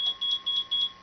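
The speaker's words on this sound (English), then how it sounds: "I have a call on my cell phone." A cell phone rings in a television studio setting, sounding as four evenly spaced electronic beeps, bright and close with short gaps between them.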